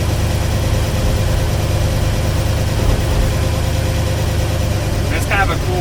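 A 1958 Studebaker Commander engine running as the car is driven slowly through a neighborhood on a cool day, with a steady low drone and rumble throughout and a brief higher squeak near the end.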